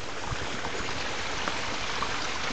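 Water pours steadily over the stones of a waterfall on a countryside walk, a continuous broadband rushing hiss that stays even in level throughout, with no voices.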